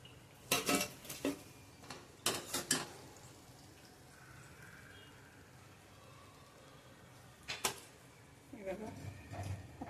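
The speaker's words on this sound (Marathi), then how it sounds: "आता एका डिश मध्ये काढून घेऊया." Fried coconut karanji pastries are lifted from the pan into a dish in a home kitchen, with several sharp clusters of metal utensil and dish clatter separated by quiet gaps.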